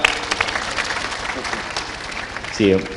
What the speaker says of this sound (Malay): kita bagi tepukan gemuruh untuk Ustaz Azhar Idrus